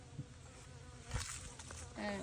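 Honeybees buzzing at a top feeder box on a hive, a faint continuous hum with occasional closer passes and light handling clatter.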